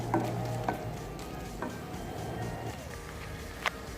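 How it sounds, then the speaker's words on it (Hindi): Garlic fried in oil in a pan and stirred constantly with a spoon, a soft steady sizzle under repeated scraping strokes, with a few sharper spoon knocks and no voices. "जब तक आपके गार्लिक की रॉ स्मेल ना चली जाए तब तक आपको लगातार चम्मच चलाते हुए इस तरह से भून लेना"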